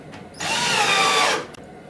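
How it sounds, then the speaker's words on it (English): A power drill drives a screw into the bottom of a kitchen sink base cabinet, giving one close, loud whirring burst of about a second that starts and stops abruptly. "Then I'll be able to just drill in or screw into the bottom."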